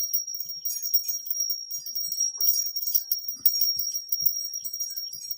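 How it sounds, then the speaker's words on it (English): A small, high-pitched hand bell jingles in light, scattered shakes with a bright, sustained ring, close and fairly quiet, with no talking. "Oh, I've also got my other little dingly bell."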